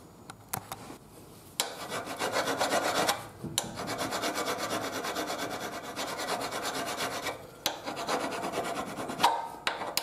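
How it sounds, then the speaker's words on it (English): Hand file rasping down a motorcycle foot peg on a Honda Africa Twin, long continuous scraping strokes broken by brief pauses and a few clanks, close and steady with no speech. "I'll carry on filing this down and put the peg on, the other foot peg."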